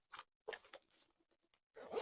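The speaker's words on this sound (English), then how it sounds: "and zip it right up" A small storage case for diamond painting tools is zipped shut in a few short, quiet rasping strokes with brief pauses between them, ending in a longer pull.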